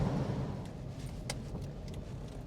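A Rover SD1 Vitesse V8 pulls away, its engine producing a steady, muffled drone with road noise from inside the car and no distinct gear changes standing out.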